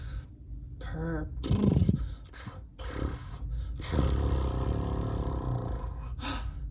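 A person imitates a lion's purr with a low, rough, rumbling voice, drawn out in a few breathy stretches, close up.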